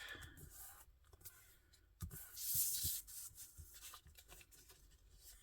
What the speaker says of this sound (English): Fold it up.